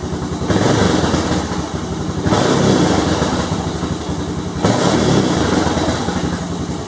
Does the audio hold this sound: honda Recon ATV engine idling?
yes